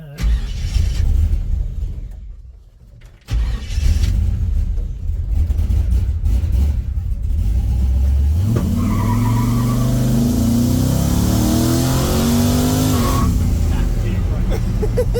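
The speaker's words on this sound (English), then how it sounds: "Give it in first gear and just kind of rev it up through first here" A car engine in first gear revs hard, climbing steadily in pitch as it rises, loud and close over rough road and tyre noise, with voices faintly around it.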